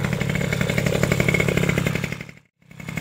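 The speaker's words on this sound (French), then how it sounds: "Donc démarrage sans accélérer, sans starter." A moped engine fitted with a Fox 49.1 cc cylinder runs at a steady, buzzing two-stroke idle, loud and close. The sound drops out briefly and then resumes.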